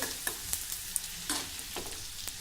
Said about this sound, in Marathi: एक टेबलस्पून असा कापलेला लसूण घालणार आहे थोडं परतून घेऊ